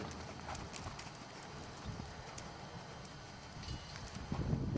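Hooves of a gaited horse during a riding lesson, giving a steady, rhythmic clip-clop at moderate distance over light wind noise.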